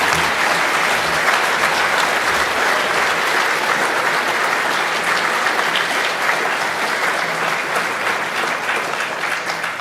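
An indoor audience at a leadership talk applauds to welcome a speaker, steady and loud clapping that holds evenly for about ten seconds with no voices.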